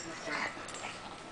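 A dog playing with a toy gives a short, high whimper, heard close under overlapping talk.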